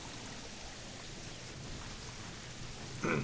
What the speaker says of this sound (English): My God, it's so rainy out there.